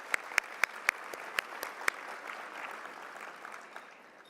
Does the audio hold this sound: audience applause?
yes